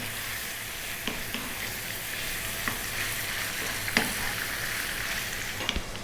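A beef mixture for curry fries over medium heat in a pan, a continuous close sizzle broken by occasional soft scrapes and clicks of stirring.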